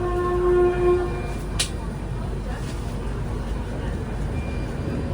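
The Gatimaan Express pulls out of Hazrat Nizamuddin, a low rumble of train wheels and carriage noise heard from on board, with a steady tone early on and a sharp click partway through.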